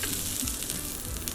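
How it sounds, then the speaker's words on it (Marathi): Mustard seeds and asafoetida sizzle steadily in hot oil for a tempering, a dense close-up crackle with faint popping that holds throughout. "तेल तापलं की नेहमीप्रमाणे आपण मोहरी टाकणार, त्यावर हिंग टाकणार"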